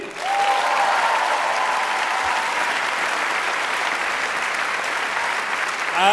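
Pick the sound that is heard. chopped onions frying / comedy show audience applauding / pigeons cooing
comedy show audience applauding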